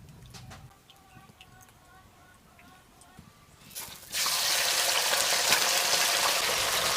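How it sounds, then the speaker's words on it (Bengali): Prawns drop into hot mustard oil and burst into a loud, dense, continuous sizzle about halfway through, after a quiet stretch with faint kitchen sounds. "এবার আমি চিংড়ি মাছটা ভেজে তুলে রাখবো।"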